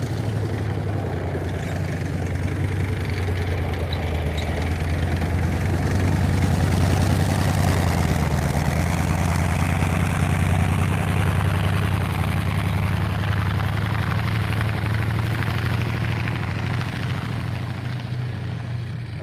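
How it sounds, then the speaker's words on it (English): The radial engine of an M4A1 Sherman tank runs steadily nearby at a tank show, a loud continuous throbbing rumble with a faint rise and fall in intensity. "And this one's got the classic radial engine in the back."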